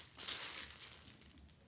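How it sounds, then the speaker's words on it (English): A clear plastic bag crinkles steadily as a Kuel stainless steel bottle is pulled out of it. The rustle is close, loud and continuous, with a sharper burst early on and no talking. "Let's remove the bottle from its clear plastic bag"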